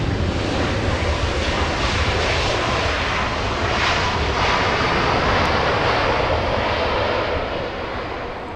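An Alaska Airlines jet in the More to Love livery departs Los Angeles International Airport on an overcast day, its engines roaring loud and steady before easing slightly toward the end.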